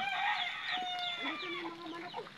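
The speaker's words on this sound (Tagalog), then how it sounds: "Nandito na yung mga manok ko." Backyard chickens in Anda, Pangasinan, after a typhoon cluck and squawk close by in a busy overlapping chorus, with a brief crow-like call mixed in.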